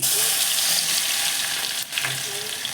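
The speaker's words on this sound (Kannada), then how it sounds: "ಈಗ ಚಟ್ಪಟೆ ಅಂತಿದೆಯಲ್ವಾ, ಇದಕ್ಕೆ ಸ್ವಲ್ಪ ಜೀರಿಗೆ ಹಾಕ್ತಾ ಇದ್ದೀನಿ" Cumin seeds and garlic sputter and crackle in hot oil for lentil rasam, a loud, dense sizzle heard up close without a break.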